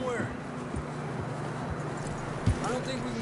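Horse hooves clip-clop in a steady rhythm in the video game Red Dead Redemption, over a background of wind and ambience, with a voice speaking briefly amid the hoofbeats.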